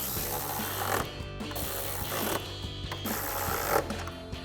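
A ratchet with an extension and socket tightens 13mm bolts on a 2021-2023 Ford F-150 during fog light and bumper reinstallation, making steady runs of quick, close mechanical clicks over a low background hum.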